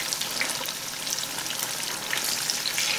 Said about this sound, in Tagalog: Pirituhin natin to into medium heat.